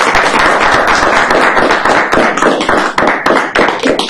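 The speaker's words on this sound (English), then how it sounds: "if we could just all give Christine one big round of applause" An audience at a talk on human trafficking and healthcare gives a round of applause, loud, close, sharp individual claps forming a dense burst that thins a little toward the end.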